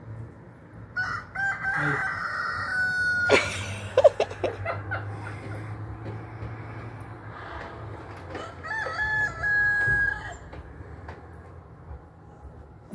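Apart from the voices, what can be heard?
rooster crowing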